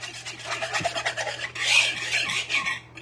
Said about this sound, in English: And I got my small stainless whisk.